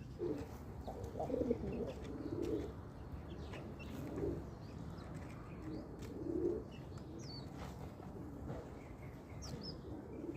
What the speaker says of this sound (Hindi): दोस्तों ऊपर देखिए एक बबरा कबूतर आया है,